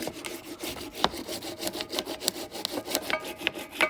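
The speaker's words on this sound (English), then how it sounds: "So you can also just rub the hammer and just gentle taps and get your outline of what you need." A hammer gently rubs and taps over gasket paper laid on a Leyland 262 engine part to mark its outline, a run of light, irregular scraping taps, close and fairly quiet, with no talking.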